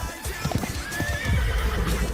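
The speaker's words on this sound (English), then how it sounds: "I heard a horse" A horse whinnies in a video game over the steady clatter of hooves, close and loud, with busy game sound around it and no talk.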